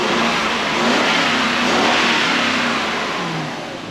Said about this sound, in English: I give it a bit of a rev, it fixes it